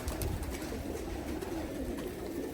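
Malacho'kar pigeons coo softly in a loft, repeated low throaty coos carrying close against a quiet background, with no talk.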